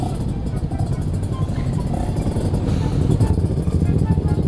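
Sport motorcycles racing, a Honda CBR 250 RR, Kawasaki Ninja and Yamaha R25, produce continuous loud engine roar with rising revs and clatter, mixed with talk and wind.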